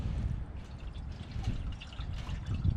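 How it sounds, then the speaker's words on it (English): Water is poured and trickles into the radiator of an antique Oliver backhoe, a soft, continuous splashing and dribbling that stays faint and fairly close throughout. "Now I'm going to top it up with water."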